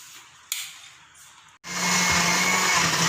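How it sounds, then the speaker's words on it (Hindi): Kitchen blender grinding ginger, green chili, garlic and tomato for an arvi gosht curry; after a brief clunk and a pause, the motor starts and runs with a loud, steady roar to the end. "अदरक, सब्ज़ मिर्च, लहसुन और टमाटर सब डाल के मैं इसको ब्लेंड कर रही हूँ।"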